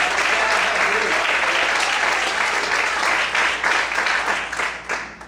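Sustained applause from a church congregation during a Portuguese-language sermon, a dense, even roar of many hands that holds steady and then starts to thin toward the end, with some voices blended in.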